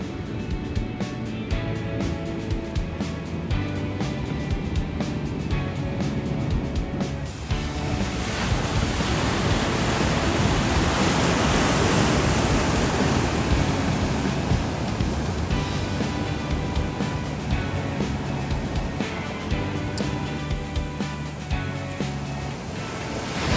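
Ocean surf washes steadily onto a California beach, close and continuous, with wind buffeting the microphone throughout and no voices.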